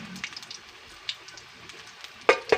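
A small tortang dilis, an anchovy omelette, fries in a pan with a soft, low sizzle and scattered crackles, then a few sharper pops and spits near the end.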